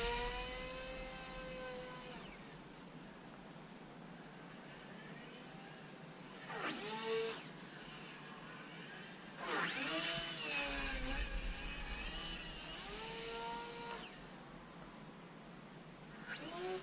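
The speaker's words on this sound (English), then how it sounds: "I'm pretty sure this motor is going to burn up at some point. This is a Racerstar 1306" Racerstar 1306 3100 kV electric motor on a Nutball LW V2 RC plane, a thin high whine that rises and falls in pitch with throttle, with several distinct revving passes, fairly faint and distant.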